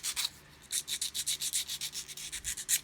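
A piece of 240 grit emery, wet and dry paper, rubbed around the edges of a Tamiya 1/10 RC GR Yaris polycarbonate body: a steady run of about a dozen quick, close, hissing sanding strokes, alone and fairly quiet.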